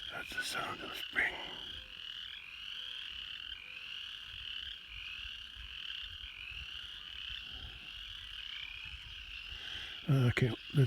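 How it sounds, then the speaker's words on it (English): A chorus of frogs calls on a spring evening beside a pasture, a steady, dense trilling chirp that holds throughout at moderate distance, with a brief louder rustle near the end. "Listen to the frogs. That's the sound of spring."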